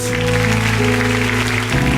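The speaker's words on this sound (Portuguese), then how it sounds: "Aplauda a Jesus," A church congregation claps for Jesus during a Portuguese-language worship service, the steady dense clapping blending with sustained music throughout.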